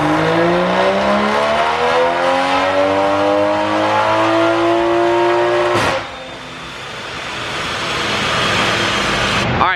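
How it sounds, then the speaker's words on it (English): A big-turbo 2020 Toyota Supra on a dyno revs loud and close, its engine note climbing steadily through the gears before a sharp crack and a drop to a lower roar that builds again. "they just did the first dyno run on the tune it had before, made 425 to the wheels"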